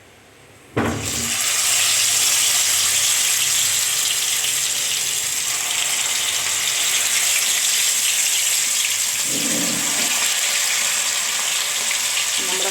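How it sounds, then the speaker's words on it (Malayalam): Steady, loud sizzling of quail frying in hot oil in a pan, a continuous crackling hiss that starts abruptly and runs throughout. "അപ്പോൾ ഇനി നമുക്കിത് വറുത്തെടുക്കാം"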